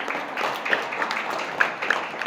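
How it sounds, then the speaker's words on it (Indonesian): Children at an Islamic boarding-school gathering are applauded, with scattered clapping from a group indoors, fairly soft and uneven, with a few sharper claps standing out. "tepuk tangan untuk anak-anak kita semua ya."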